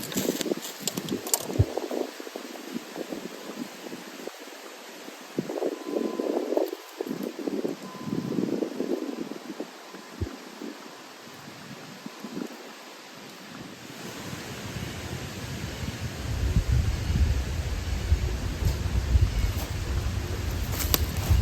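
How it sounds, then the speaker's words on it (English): A mini fatwood torch in the open with wind gusting across it, a steady broadband rush with rustling bursts, swelling into a stronger low roar in the later part, no talk. "Too much wind."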